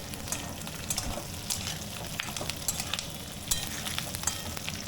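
Capsicum and onion sizzling and frying in a pan, a steady crackle with periodic stirring clatter, close and alone.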